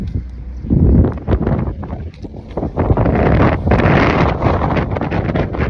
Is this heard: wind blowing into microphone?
yes